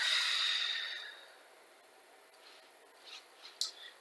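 A steady breath during a yoga stretch, a long airy exhale fading over the first second or so, followed by a few faint soft breath sounds and small rustles, close and quiet with no talking.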